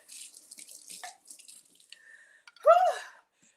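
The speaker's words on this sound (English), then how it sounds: "One moment, let me rinse this off." Water from a kitchen tap briefly runs as something is rinsed under it, a short close splash and stream following quieter handling noises.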